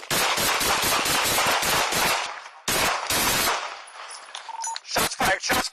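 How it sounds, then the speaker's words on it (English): Police open fire in a dense, rapid volley of gunshots, loud and close, followed by a brief lull and then a few more separate shots. "Shots fired. Shots fired."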